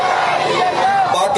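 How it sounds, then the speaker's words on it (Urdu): A crowd chanting slogans before a Pakistani flag hoisting ceremony, a loud dense roar of many voices shouting together, close and continuous throughout. "تو اب ہم اپنے فلیگ ہوسٹنگ سے پہلے بس نعرے لگاتے ہیں"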